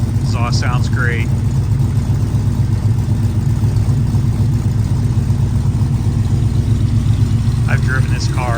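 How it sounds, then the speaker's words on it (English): A 1968 Mercury Cougar idles close by with a steady, loud, lumpy exhaust rumble, while someone speaks briefly at the start and again near the end. "Exhaust sounds great."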